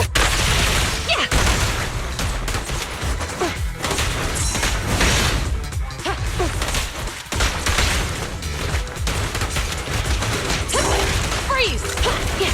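Gunfire during a squad combat fight in Zenless Zone Zero, with dense mechanical clatter and crashing impacts running continuously under music and game effects, loud and busy throughout with brief voice bursts.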